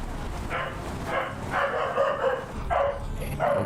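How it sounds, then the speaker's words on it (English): A dog barks repeatedly in bursts, fairly close, as a small storm with lightning passes overhead; the barks come in irregular clusters. "Dog's going crazy."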